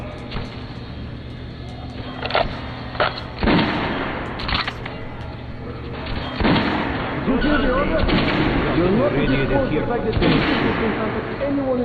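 Rifle gunfire at a shooting practice range in the game Metro Last Light, sharp single shots spaced irregularly at first, then denser reports over a rumbling background.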